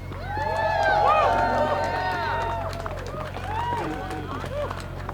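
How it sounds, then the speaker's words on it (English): A crowd at a People's State of the Union event in 2026 cheers and applauds for Representative Yasamin Ansari and Sonia Almaraz, a loud, steady mix of whoops, voices and claps over a low hum. "please give a warm round of applause and show some love to Representative Ansari and to Sonia Almaraz"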